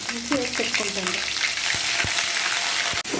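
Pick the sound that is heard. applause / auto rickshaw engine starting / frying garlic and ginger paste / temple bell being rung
frying garlic and ginger paste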